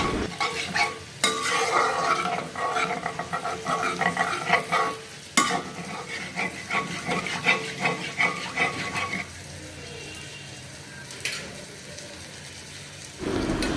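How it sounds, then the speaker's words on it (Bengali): Spices being stirred and fried for a Bangladeshi boal fish bhuna, a steady close sizzle with repeated scraping stirs through most of the stretch, easing to a quieter, thinner frying hiss near the end. "আমার মশলাটা কষানো হয়ে গেছে।"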